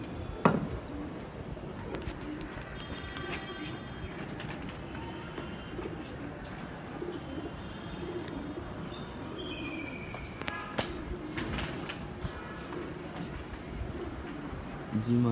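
Pigeons coo softly at a distance amid rustling and low background noise, with a few brief clattering sounds and faint voices in the mix, as the birds are released to fly in Lahore.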